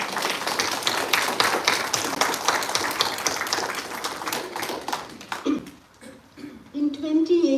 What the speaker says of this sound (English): This surely deserves a huge round of applause